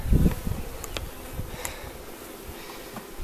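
Honey bees buzz close around a newly started beehive, a low insect drone with a loud burst at the start, then steady softer buzzing and a few brief passing hums.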